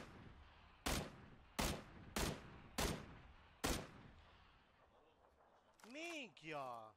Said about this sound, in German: Ja, vier Schüsse.